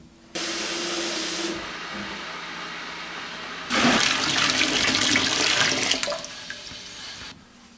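Hot tap water runs into a home-brewing liquor tank, about 8.5 liters in all, as a close, steady rushing stream that pauses briefly and then comes back stronger and splashier before stopping.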